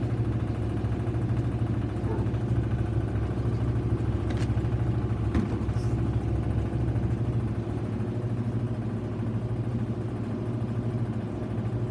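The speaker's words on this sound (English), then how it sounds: "This is the spin for towels and sheets." A GE 4.6 washing machine runs its spin cycle with a load of towels and sheets, giving a steady, continuous low hum and drone with a faint clatter throughout, level and unbroken.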